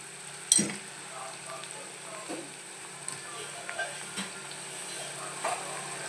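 A home-cooked vegetable dish frying in a pan, a soft steady sizzle with occasional clinks and stirring knocks, with some faint talk in the background.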